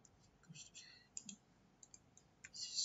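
A few faint, separate computer mouse clicks come at scattered moments, soft and close, over a quiet room hush.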